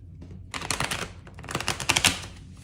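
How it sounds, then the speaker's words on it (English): Rapid papery riffling and snapping of tarot cards being shuffled, close by, in two or three bursts of crisp flicks with no talking. "that was not the best shuffle"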